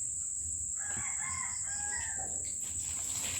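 A rooster crows at a farm while chickens cluck nearby, over a constant high insect-like whine and outdoor background noise, with no talking.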